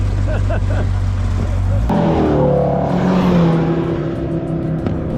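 A Fiat Panda race car drives a track day, its engine droning loudly and steadily up close, with a gear change partway through and the engine note climbing afterward.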